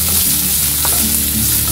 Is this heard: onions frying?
yes